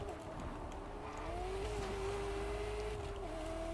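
A car engine in the racing game Test Drive Unlimited Solar Crown, a sustained hum with a rising and falling pitch as the car drives and slides, loud and continuous, with no speech.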